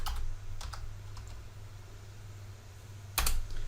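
Sharp plastic clicks of keys pressed on a computer keyboard, a few quick taps spaced apart then a final louder pair near the end, close and quiet over a low steady hum.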